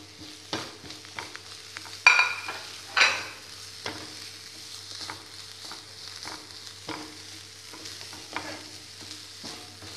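Chicken filling with capsicum stir-fried in a pan, with a low steady sizzle and repeated close scrapes and clinks of a spatula on the metal, two of them louder, and no voice.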